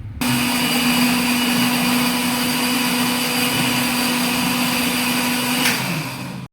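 Kitchen mixer grinder pulverising whole biryani masala spices such as black pepper, a loud steady high-pitched motor whine with rattling that runs continuously for about six seconds before winding down.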